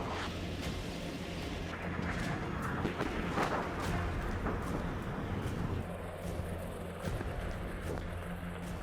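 Explosions boom across Kyiv during a Russian drone swarm attack, a continuous rumbling wash of distant blasts and crackling bursts, with several sharper thuds standing out over a dense roar.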